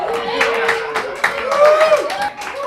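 Audience in a comedy show setting, clapping in a loud, dense burst with cheers and whoops mixed in, sustained throughout under a tonal voice.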